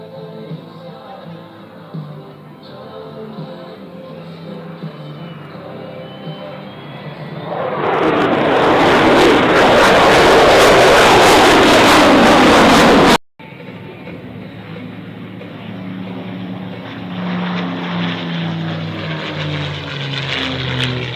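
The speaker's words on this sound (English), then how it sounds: "Right now you're seeing our 100 Squadron aircraft." A propeller aircraft from an Australian Defence Force display at the 2025 Avalon airshow roars past loud and close for several seconds amid steady background noise, then the sound cuts off abruptly and a quieter continuous drone follows.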